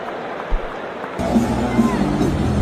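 A cricket stadium crowd at an India versus England T20 match cheers and murmurs in a broad, steady roar that swells partway through and stays loud to the end.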